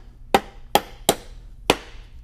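A hammer taps a wooden box joint drawer together with four sharp, close knocks at uneven intervals, each ringing briefly against the wood in an otherwise quiet room.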